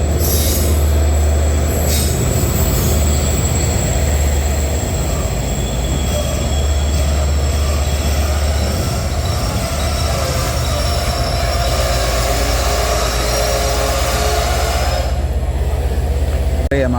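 The Yal Devi train pulls into Jaffna railway station with loud, continuous wheel squeal and rumbling rail noise, high metallic screeching sustained close by throughout.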